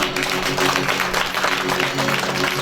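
Audience at a Hindu religious discourse on the Bhagavat Katha applauding continuously, dense steady clapping from a crowd, moderately loud and sustained throughout.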